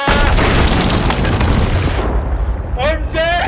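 A gunpowder keg blows up aboard a ship in Sea of Thieves, a loud broadband boom that roars and decays over about two seconds, followed by brief whistling, chirping game effects near the end.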